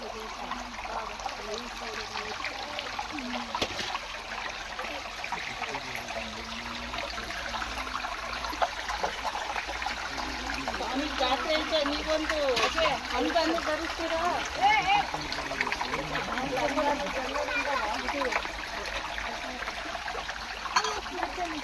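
Continuous rushing and trickling of a cold, flowing hillside stream at Seege Gudda in Hassan district, Karnataka, steady and moderately loud, with faint voices underneath.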